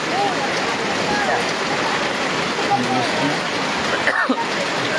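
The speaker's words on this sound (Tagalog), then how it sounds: "Lakas pa rin ang ulan." Heavy rain from a typhoon pours steadily in a dense, continuous hiss over a flooded street, with faint voices and scattered splashes underneath.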